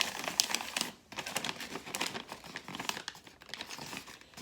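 Christmas wrapping paper being folded and creased around a gift box, close crinkling and rustling with irregular crisp crackles and soft taps, quiet and continuous.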